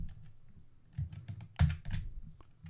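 Light clicking keystrokes on a computer keyboard, a short uneven run of taps with a couple of firmer presses, close and quiet with no talking.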